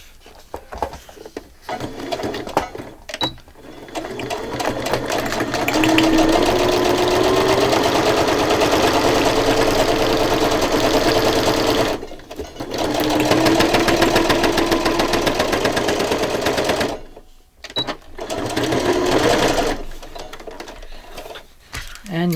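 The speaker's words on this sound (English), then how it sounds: "now we're going to do that straight stitch" A sewing machine runs a straight stitch on a ring-bound December daily craft project, whirring steadily and close in two long runs separated by short pauses, with brief stops and handling at the start and end.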